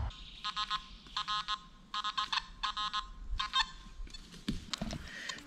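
A Nokta Makro Simplex metal detector, set to Park 2 at near-maximum sensitivity, gives a series of short repeated electronic beeping bursts in a regular rhythm, close and clear, over a quiet outdoor background.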